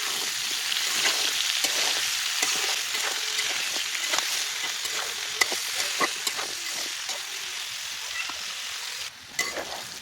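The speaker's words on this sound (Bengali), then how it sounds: "সবজিগুলো ভাজা হয়ে গেছে, এখন নামিয়ে নেব।" Vegetables fry in a pan with salt and turmeric, giving a steady, close crackling sizzle dotted with light stirring clicks, briefly dipping near the end.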